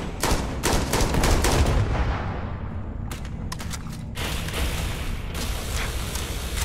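Rapid gunfire bursts crack from the video game Starfield, with dense overlapping shots and booms that stop and resume in short volleys.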